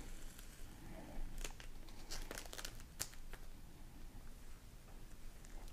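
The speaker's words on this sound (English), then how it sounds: "So you want to remove that plastic." Protective plastic film is peeled off a Pinlock fog resistant helmet face shield lens, giving soft close crinkling and crackling with a few sharper ticks, quiet and continuous.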